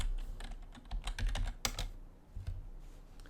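A quick run of keystrokes clatters on a computer keyboard, close and fairly quiet, with uneven clicks and no voice.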